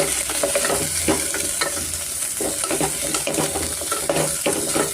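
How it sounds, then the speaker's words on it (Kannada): Mutton leg soup masala with chili powder and rock salt frying over a medium flame, a steady dense sizzle with scraping stir strokes throughout, close and loud, no voices. "ಮೀಡಿಯಮ್ ಫ್ಲೇಮಲ್ಲಿ ಸ್ವಲ್ಪ ನಾವು ಚೆನ್ನಾಗಿ ಹುರ್ಕೊಬೇಕಾಗುತ್ತೆ."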